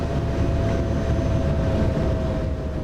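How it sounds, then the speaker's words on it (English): A train in the Train Sim World game, running on the Hauptstrecke Rhein-Ruhr line, gives off a steady rail rumble with a constant tonal whine, loud and unbroken for a few seconds. "I've got to start dealing with my own train braking for the next station."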